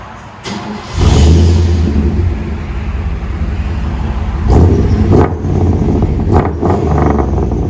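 A 1997 Chevy Silverado pickup with a 5.7L V8 and true dual Magnaflow exhaust rumbles deep and loud, revving up sharply a few times with throaty bursts over a steady idle.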